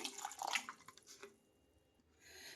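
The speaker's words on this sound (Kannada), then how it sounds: "ನಾನಿಲ್ಲಿ ಒಂದು ಚಂಬಷ್ಟು ನೀರು ಹಾಕ್ತಾ ಇದ್ದೀನಿ" Water is poured from a mug into a pressure cooker holding raw mango, giving a short, faint splash and trickle. A soft, quiet wash of water noise follows.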